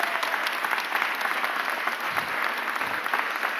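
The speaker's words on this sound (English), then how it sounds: "Give that a round of applause, please." Sustained applause from a room of attendees at a mayor's press conference, dense and fairly loud, clapping evenly throughout without speech.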